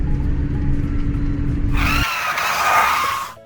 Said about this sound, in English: The dump truck stopped quickly.